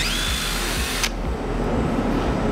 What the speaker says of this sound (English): Drill out your bolt holes.